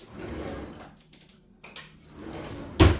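Someone rummages through a kitchen drawer while hunting for a ginger planer: soft rustling and sliding, then one sharper knock as the drawer moves, close and alone.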